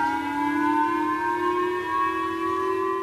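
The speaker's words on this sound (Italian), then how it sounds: "Stamane le sirene ad Hokkaido hanno suonato come in tempo di guerra" Air raid sirens sounding in Hokkaido, Japan, a loud, steady wartime-style wail holding an unbroken rising tone throughout with no speech over it.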